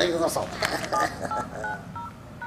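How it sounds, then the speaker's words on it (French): Mobile phone ringing in a cinema scene of a Rabbids video game, a sequence of electronic beeping tones that fade as it goes on, with a voice talking over it. "On a fait sonner mon portable."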